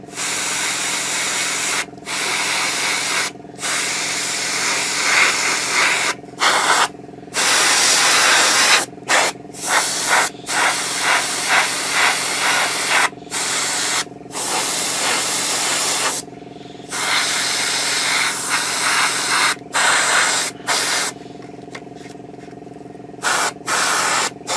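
Airbrush laying even coats of paint on a Takom 1/35 British Chieftain Mk 10 model tank, a steady close hiss broken into bursts by frequent short pauses.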